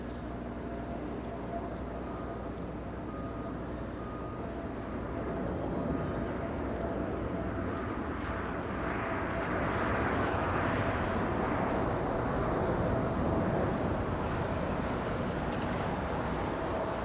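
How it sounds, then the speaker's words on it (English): Boeing 747 taking off at LAX, a distant jet rumble that swells steadily louder over the span, fairly faint and heard alone. "trying to show you the 747 takeoff through every open window, every open hangar"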